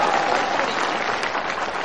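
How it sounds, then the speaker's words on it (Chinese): Audience applause at a Chinese crosstalk (xiangsheng) comedy show: dense, steady clapping from a large crowd, loud and continuous for the full two seconds with no break. "因为我发现男同胞的掌声啊热烈"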